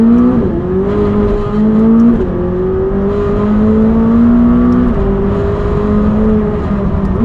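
A powerful 600-horsepower sports car engine heard from inside, rising steadily in pitch through the gears with loud, continuous roaring and brief dips between shifts.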